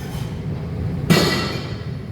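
A tram rumbles past on a Krakow street, a low rolling rail noise that swells into a louder, brighter rush of wheels and clatter midway before easing off.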